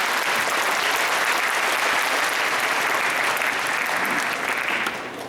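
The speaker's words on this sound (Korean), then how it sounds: "다시 한번 큰 박수 부탁드립니다." Audience applause at a 64th anniversary commemoration of the 3·8 Democratic Uprising in Daejeon for a singer, a student choir, a high school wind band and a university band. The clapping is loud, dense and continuous, tapering a little at the end.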